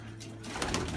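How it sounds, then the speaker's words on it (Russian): A pigeon coos softly inside a pigeon loft, a low throaty murmur rising over a second, close by with faint background noise and no talking. "И голубь рядом сидит."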